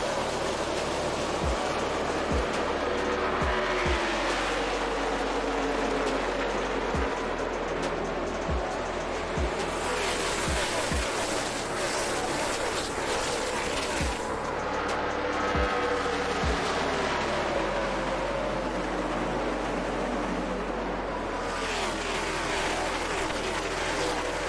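Race cars roar around the track on the opening lap, a dense, loud wash of engine noise and crowd roar with repeated low pulses as cars pass, continuous throughout.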